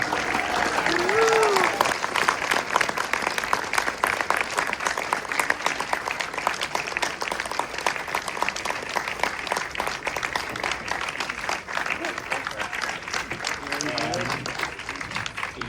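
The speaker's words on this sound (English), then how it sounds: "Please give a very warm applause." Warm, sustained audience applause for Mark Hamill at a film Q&A for The Life of Chuck, a dense continuous roar of many hands clapping with scattered cheers and brief voices rising near the start and end.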